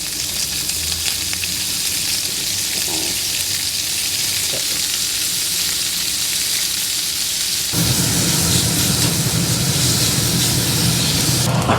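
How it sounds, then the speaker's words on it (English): Ground beef sizzles loudly and continuously in a hot pan, a steady crackling hiss that grows fuller partway through, with an occasional stir. "The ground beef, just like so, and you'll hear it sizzle"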